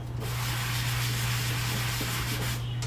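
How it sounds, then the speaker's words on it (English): Steady, continuous scrubbing of stovetop parts in a kitchen, a loud close rasping hiss with a constant low hum underneath, running without pause and no voices. "So I'm going to go ahead and I'm going to scrub the top of these"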